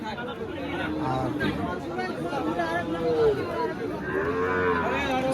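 Sahiwal cattle moo repeatedly at a busy livestock market, several drawn-out calls rising over steady crowd chatter and people talking nearby.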